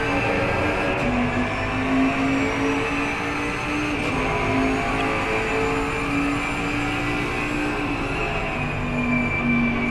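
A racing car's engine and drivetrain in a sim racing game at Kyalami, a sustained loud mechanical drone with steady whining tones holding a nearly constant pitch throughout, no voices over it.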